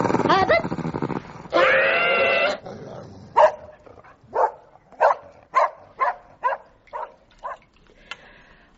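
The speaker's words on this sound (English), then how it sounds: "in all my considerable years of working with dogs, seen such a display of unprovoked aggression and unwarranted violence" Aggressive dog barking and snarling in a radio drama, a dense growling burst followed by a regular series of sharp, close barks alone with no talk.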